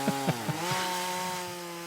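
A chainsaw-like motor drones steadily for a couple of seconds, with a few rough bursts at the start as it bites, then settles into a sustained buzzing whine.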